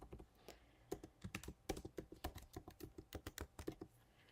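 Fingers typing on a computer keyboard, a quick irregular run of crisp key clicks, close and fairly quiet with brief pauses between bursts.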